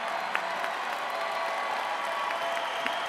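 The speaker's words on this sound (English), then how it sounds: "Everyone, please join me in a round of applause." A college commencement crowd applauds in a large venue, a steady, moderately loud sheet of clapping with a few sharper individual claps and faint cheering mixed in.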